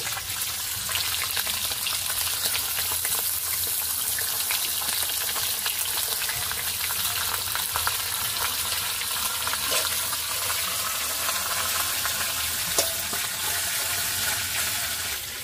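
Bhetki fish frying in oil fills the clip with a loud, steady crackling sizzle, dense and unbroken throughout, heard close without any talk.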